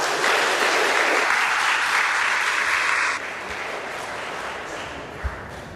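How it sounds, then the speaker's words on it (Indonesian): Audience applause at a ministry officials' inauguration ceremony in Indonesia, a dense burst of clapping that is loud at first, then drops and thins out toward the end. "Tepuk tangan dong kalian semua."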